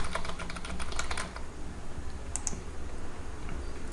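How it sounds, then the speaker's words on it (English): Rapid typing on a computer keyboard, a flurry of close clicking keystrokes that slows into a few scattered taps. "I'm going to click here and I'm going to start typing."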